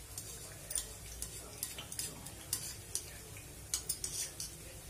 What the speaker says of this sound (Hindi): मैं चम्मच के माध्यम से इसको पलट रही हूँ दोस्तों।